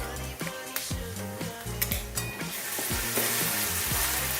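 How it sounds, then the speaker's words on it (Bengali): Ginger, garlic and green chilli paste added to mustard oil with browned onions in a pan, giving a close, steady sizzle with sharp clicks and spatula scrapes throughout. "আদা রসুন আর কাঁচা লঙ্কা পেস্ট দিচ্ছি"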